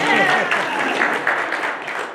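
Brief burst of audience applause at a sports parenting talk, a dense wash of clapping filling the room for a couple of seconds.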